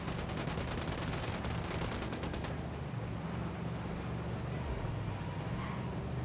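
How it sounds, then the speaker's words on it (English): Rapid, continuous bursts of gunfire from a video game, dense machine-gun-like rattling that carries on steadily at moderate loudness, with a brief higher clatter early and a low rumbling backdrop throughout. "I'm opening fire on these shitheads"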